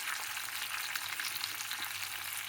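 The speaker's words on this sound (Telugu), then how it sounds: "ఇది ఉల్లిపాయలు బాగా ఎర్రగా వేగాలి." Onions, green chilies and tomato frying steadily in a pan, a continuous close sizzle with faint crackles and no voices, cooking for sabudana khichdi.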